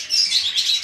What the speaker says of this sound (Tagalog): ibibida ko sa inyo yung ating golden pair ng African lovebird